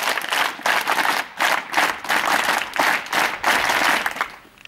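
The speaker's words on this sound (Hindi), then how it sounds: "ताली बजा।" An audience at a Hindi poetry gathering claps in repeated bursts, loud and dense, with brief gaps between waves before it trails off at the end.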